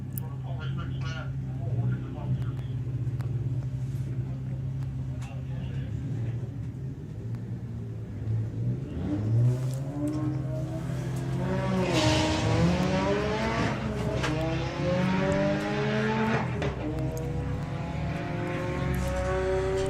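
Volkswagen drag race cars accelerate down the strip at Santa Pod during Sportsman Nationals qualifying, their loud engine roar building and sweeping upward in pitch while a commentator talks continuously over it.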